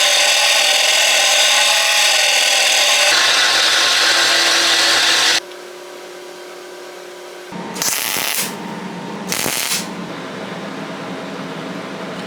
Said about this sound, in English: I need to grind on this line to make the top flush